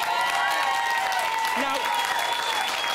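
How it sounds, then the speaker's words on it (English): A studio crowd reacts after a Big Brother UK eviction with a steady, loud wash of applause, cheers and boos throughout, while a presenter speaks over it. "quite a reaction from the crowd. Some cheers, some boos."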